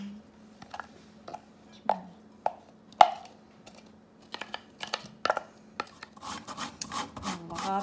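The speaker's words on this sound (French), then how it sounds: "Râper à peu près 2 cuillerées à table de gingembre" Frozen ginger is scraped across a kitchen grater in short rasping strokes, sparse at first and then quicker and denser, close by, over a low steady hum.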